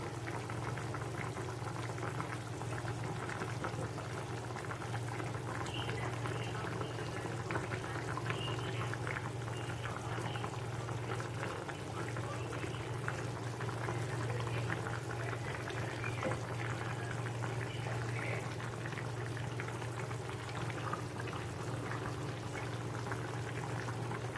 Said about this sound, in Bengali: জলটা ফুটে গেছে। আমি এই ফুটন্ত জলের মধ্যে আস্তে আস্তে ডালের বড়াগুলো দিয়ে দেবো।